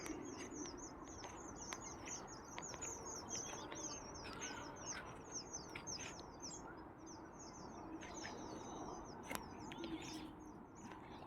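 Birds call and chirp repeatedly in the open air near a house in the evening, a busy chorus of short tweets over a steady, faint outdoor hum.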